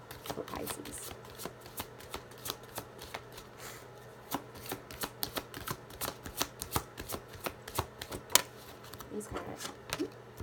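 Tarot cards shuffled by hand in a series of crisp riffling bursts and slaps, close and fairly steady over a low background hum, with no talking.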